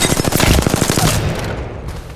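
Rapid automatic gunfire in the Apex Legends firing range, a steady stream of close, loud shots for about a second before cutting off into quiet ringing.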